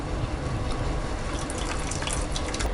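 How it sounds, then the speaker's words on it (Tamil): Water pours and splashes into a mixer jar as it is rinsed, a loud continuous gushing stream with bubbling throughout, no talking. "மிக்சியில் இருக்கிறத நம்ம வந்து நல்லா வாஷ் பண்ணிவிட்டு அப்படியே அதே தண்ணியவே ஊற்றிடலாம்."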